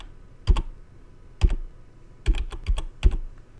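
Bursts of typing on a computer keyboard, a few quick clustered keystrokes at a time separated by short pauses, close and clear in a quiet room.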